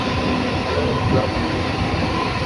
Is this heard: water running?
no